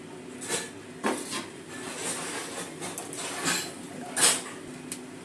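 Heated chicken is served onto plates in a home kitchen, with soft scattered clinks and knocks of a spoon against dishes and pans, quiet and intermittent.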